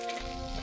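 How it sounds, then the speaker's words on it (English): An egg cracked into oil brought to high heat, a soft, brief sizzling hiss heard alone and close. "Add oil again and bring it to a high heat. Then, crack an egg into the oil."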